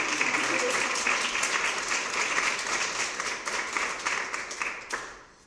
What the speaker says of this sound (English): he deserves a special round of applause